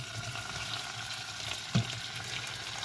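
Baby carrots and chopped green pepper fry in a pan for soup, a steady close sizzle with a faint stirring scrape and one brief low knock near the end.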